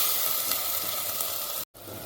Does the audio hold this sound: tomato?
yes